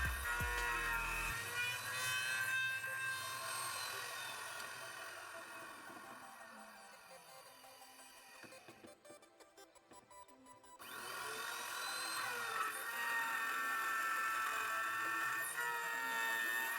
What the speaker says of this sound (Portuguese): Agora eu já estou furando para colocar a régua 25 por 50.